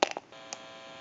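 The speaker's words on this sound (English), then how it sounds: "You may hear a little bit of an electrical hum." A few quick clicks open, then a faint, steady electrical hum from a telephone test amplifier on a Western Electric 2565 multi-line telephone drones on quietly, with one more soft click midway.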